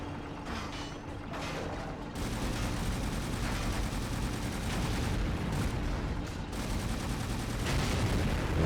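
Sustained turret gunfire in the video game 007: Agent Under Fire, set on the streets of Bucharest: a dense, continuous barrage of rapid shots with heavy rumbling low end, growing louder after the first couple of seconds and running throughout with no talk.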